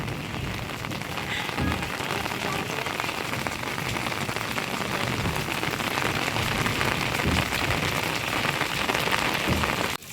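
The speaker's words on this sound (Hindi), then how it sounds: "तो बच्चे देखो मजे ले रहे हैं बारिश का" Steady, loud rain pours onto hard surfaces on a hillside home in the mountains, a dense, unbroken patter with heavier drops splashing close by and no talking.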